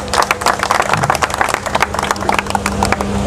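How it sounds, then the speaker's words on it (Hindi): Rally audience clapping loudly in sharp, uneven hand claps that come fast and close, with a low steady hum running underneath. "जोरदार तालियां।"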